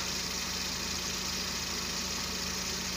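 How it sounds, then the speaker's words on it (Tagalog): A Suzuki multicab engine idles quietly and evenly, a low steady hum with a faint regular pulse, no vibration and no changes in pace. "Tahimik lang yung makina, walang vibration."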